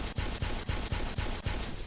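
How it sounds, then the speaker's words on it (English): A particle cannon fires in Garry's Mod, a rapid stream of loud, harsh bursts repeating at a steady quick rhythm, each pulse crackling with broad noisy energy. "Let's try this more powerful particle cannon"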